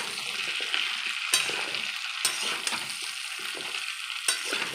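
Ground coriander and five-spice are stirred into hog plum pickle in a pan over a constant hissing sizzle, with a few sharp spoon scrapes breaking through at intervals, no speech.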